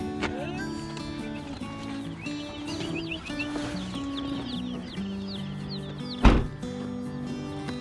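Young meat chickens chirp and peep in a brooder, close and continuous, with scattered clucks and one sharp knock near the end. Soft background noise throughout.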